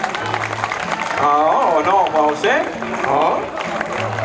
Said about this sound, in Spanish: ¿También pueden aplaudir?